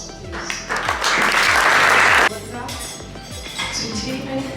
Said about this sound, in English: I want you to give him a big applause, please.